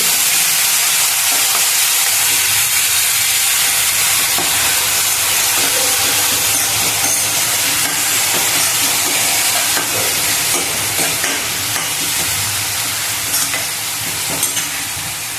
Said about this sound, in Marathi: आता आपण हे वाटण केलेले आहे याच्यात घालून घेऊया छान फ्राय करून घ्यायचं